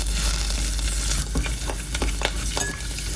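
Pork sizzles loudly in a pan as its fat renders out, a dense close spitting hiss with scattered sharper pops and crackles throughout.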